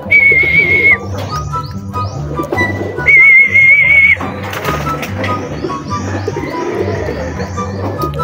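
Pigeons cooing close by in a loft, repeated low throaty coos with a couple of high whistling chirps over steady background noise.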